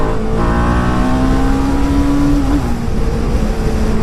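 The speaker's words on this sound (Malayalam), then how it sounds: "വണ്ടി പക്ക സ്മൂത്ത് ആയിട്ടാണ് കയറുന്നത്." A 2020 TVS Apache RR310 BS6 single-cylinder motorcycle pulls smoothly under acceleration on the road, its engine note rising steadily and droning loudly beneath wind rush, with no talk.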